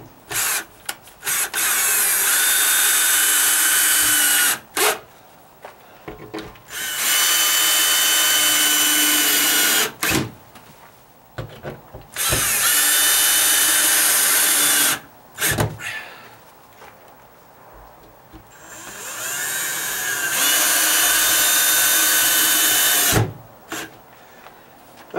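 Power drill driving screws during a dry rot deck repair, several loud whirring runs of a few seconds each, broken by short pauses with clicks and knocks.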